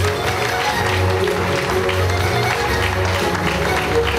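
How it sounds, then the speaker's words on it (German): A crowd at the opening of the 2023 Breisach wine festival claps loudly and continuously during a crowning, with a low hum and murmuring voices mixed under the applause. "Ich würde sagen, ganz großer Applaus."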